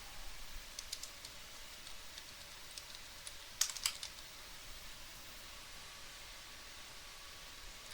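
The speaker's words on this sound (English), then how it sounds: "when the school health aide was typing answers into a form on the computer" A school health aide types into a computer form, giving soft, quiet keyboard clicks in scattered bursts over a faint hiss, with a sharper cluster of keystrokes midway.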